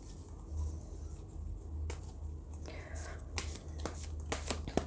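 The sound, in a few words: tarot cards being shuffled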